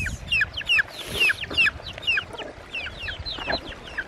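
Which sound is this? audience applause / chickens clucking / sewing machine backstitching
chickens clucking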